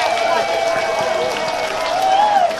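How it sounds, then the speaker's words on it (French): A school Christmas tree ceremony audience claps in a steady, dense wash of applause, with a sustained tonal voice or music line running over it throughout. "Applaudissons encore pour elle. Nous l'applaudissons."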